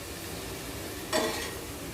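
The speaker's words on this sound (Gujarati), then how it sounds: "હવે એની અંદર આપણે ટમાટર નાખી દઈશું ટમાટરના ટુકડા" Tomato pieces tossed into a pan of frying onion, ginger and garlic give a sudden short burst of sizzling over a quiet steady fry, then fade back to a low hiss.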